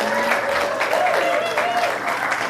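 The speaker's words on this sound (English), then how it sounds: "I'm sure nobody is applauding louder than the other 11 people that had to work with me" A church congregation applauds a minister search committee chairperson at a Sunday service, with sustained, evenly spread clapping filling the room and some voices mixed in underneath.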